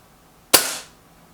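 A single sharp shot from a Benjamin Akela air rifle during target testing, a crisp close crack with a short hissing decay and no talk.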